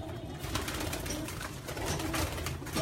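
Pigeons on a rooftop coo in soft, throaty repeated calls close by, several birds overlapping over a low background with no speech.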